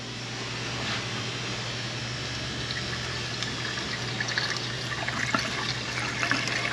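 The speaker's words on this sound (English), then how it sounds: "Let's give it some blue water here so we can have a clean windshield." Blue windshield washer fluid pours into the reservoir of a 2016 Toyota Highlander, a steady liquid trickle over a low engine-bay hum, splashing a little more toward the end.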